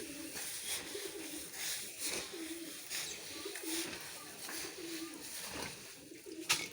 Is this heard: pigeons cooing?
yes